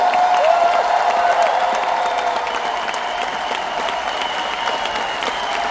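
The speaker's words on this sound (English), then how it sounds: "Somebody clap your hands and shout." A large audience at a Tim Storey event in Edmonton, Alberta claps loudly and continuously, with scattered shouts rising over the steady applause.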